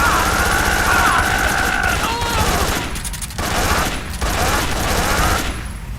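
Sustained gunfire from a Metal Gear Solid 3 video game fight rattles loudly and steadily, with a few brief gaps and voices mixed into the game audio.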